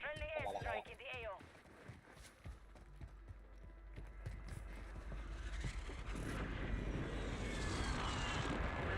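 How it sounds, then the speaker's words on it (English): Aircraft carrying out a friendly airstrike in the Warzone video game roar in and build steadily to a loud, sustained engine rush, following game speech and clatter early on. "Friendly airstrike in the AO."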